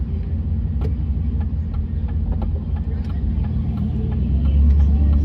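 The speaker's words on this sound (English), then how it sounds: "You may hear the tires roaring." Tires of a lifted Dodge Dakota truck roar on the road while driving, a low, steady rumble with engine hum, recorded from inside the cab on a phone.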